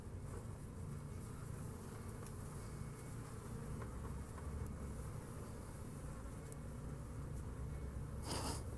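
Honey bees buzz steadily around a beekeeper working an open hive, a dense, continuous close-up hum with no pauses and no voices.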